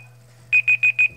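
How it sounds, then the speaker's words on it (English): A timer alarm goes off in four sharp, evenly spaced electronic beeps, loud and close, over a low steady hum that stops just after the last beep. "Okay, it's a nice alarm."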